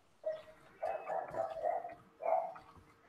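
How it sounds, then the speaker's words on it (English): Dogs barking in the background, a few separate bursts of barking at moderate distance, fairly faint, with no talk over them. "I just heard dogs in the background barking."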